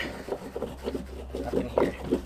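Surf wax being rubbed onto the rails of a surfboard, a series of short, close scraping strokes in an uneven rhythm over a low steady hum.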